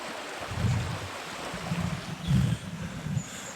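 The River Boyd near Bath runs swollen after rain, a steady broad rush of water with low surges, heard outdoors with wind buffeting the microphone.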